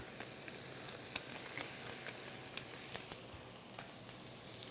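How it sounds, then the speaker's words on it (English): Duck pieces fry skin side down in their own rendered fat, a steady soft sizzle with faint crackles and small pops scattered throughout, fairly quiet and close, no voices. "So we're really gonna be cooking them right in their own fat."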